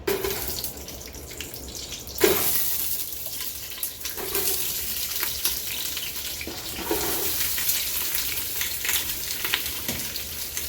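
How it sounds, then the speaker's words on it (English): Onions start frying in hot olive oil in a pan for a from-scratch pasta sauce, a loud continuous sizzle close by with sudden bursts and stirring scrapes, no voices. "we're going to start caramelizing these onions"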